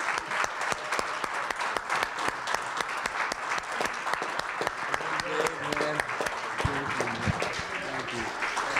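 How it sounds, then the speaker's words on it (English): An audience at a conference session gives a standing ovation, with steady, brisk clapping throughout, joined by cheers and a voice calling out over the applause near the end. "Let's stand up and give a standing ovation."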